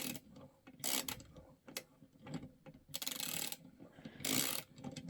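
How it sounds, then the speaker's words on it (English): Duratech 4-in-1 ratcheting wrench clicking on a nut, several close, loud bursts of rapid ratchet clicks separated by short pauses, with no talk. "I have to keep it like this to be able to make it ratchet."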